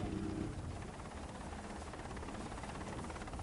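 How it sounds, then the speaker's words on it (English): Helicopter rotor noise drones steadily in the distance, a faint continuous chopping hum with no voices. "The lookout in the raft has heard the rotor noise of the helicopter"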